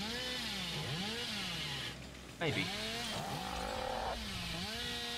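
Hillbilly's chainsaw in the Dead by Daylight video game, revving loudly with rising and falling pitch sweeps, a sharp burst midway, while a person speaks briefly.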